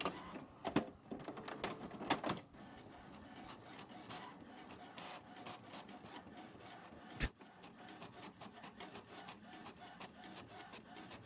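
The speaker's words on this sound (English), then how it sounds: "We're out of magenta on the printer." An inkjet or office printer runs through a print job with steady mechanical whirring, repeated clicks and carriage shuttling, plus a couple of sharper clunks near the start and one loud knock partway through. No voices are heard.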